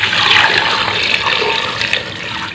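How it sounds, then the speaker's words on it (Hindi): Water pours steadily into a metal pressure cooker for mutton trotters, a continuous splashing rush that stays loud and even for a couple of seconds. "और इसमें 3 गिलास के करीब पानी डाल देंगे।"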